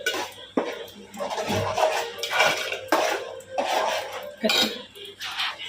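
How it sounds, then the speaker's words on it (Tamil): A metal spoon scrapes and clinks against a pot of fish curry with masala in repeated strokes, close by, with a steady stirring rhythm and no talking. "நல்லா கிண்டிப்போம்."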